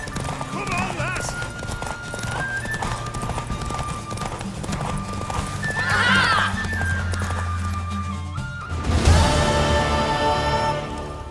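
Rapid clip-clopping hooves of a racing horse in The Witcher 3 gallop under a voice, with a horse whinnying partway through and a louder burst of hoofbeats near the end.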